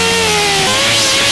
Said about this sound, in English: We didn't get it exact, so we got to grind that off.